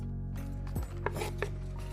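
Food being cut in the game Spirit City: a few light knife chops on a board, about three distinct taps over a soft steady background hum.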